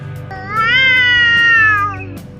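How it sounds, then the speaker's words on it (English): An unneutered male cat gives a single long, loud, rising and wavering caterwaul, close to the listener with nothing else heard. "unneutered male cats have their own unique mating call known as caterwauling"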